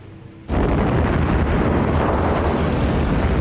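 Wartime bomb explosion from the Japanese air raid on Darwin, a sudden loud blast that bursts in and rolls on as a dense, sustained roar of noise, with no voices.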